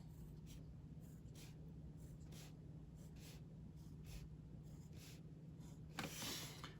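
Pencil drawing vertical lines down paper for a two-point perspective castle sketch: repeated short scratchy strokes in a steady rhythm, faint and close, then a louder brushing rustle near the end. No one speaks.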